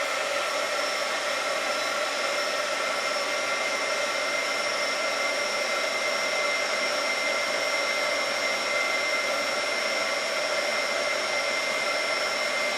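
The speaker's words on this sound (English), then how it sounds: "now I'm going to take my heat gun" Heat gun melting embossing powder for a craft stamping project, a steady loud blowing whoosh with a constant whine, unbroken from start to finish.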